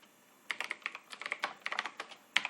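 JavaScript code being typed on a computer keyboard: a close, quick run of crisp key clicks in an uneven rhythm, ending with a firmer keystroke.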